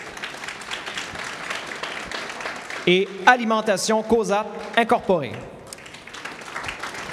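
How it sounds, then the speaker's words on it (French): Applause from a gala awards audience, moderate and continuous beneath a presenter's voice, with a short burst of music cutting in midway before the clapping carries on. "oui, vous pouvez applaudir"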